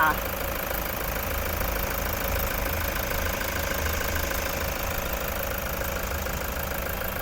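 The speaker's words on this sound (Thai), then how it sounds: "ตอนนี้เราสตาร์ทเครื่องยนต์อยู่นะคะคุณลูกค้าสามารถฟังเสียงเครื่องยนต์ได้เลยค่ะ" A 2018 Toyota Commuter 3.0 diesel van idles with a steady, even engine rumble and light knocking texture throughout, close and continuous, with someone talking over it.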